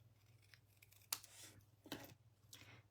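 Scissors trimming card stock while crafting a watercoloured sunflower card: a few faint, close snips and slicing cuts spaced apart over a low steady hum, no speech.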